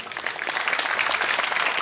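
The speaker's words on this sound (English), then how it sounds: "I think there's a really, really big round of applause deserved here." Big round of applause from a conference audience after a talk on DNS, dense steady clapping filling the short stretch, fairly loud and even.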